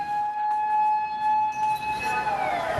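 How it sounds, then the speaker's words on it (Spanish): Tsunami warning sirens wail across a Japanese town, a loud steady tone holding pitch and then sliding downward near the end, with no voices. "Esta grabación recoge el momento después de que sonaran las sirenas."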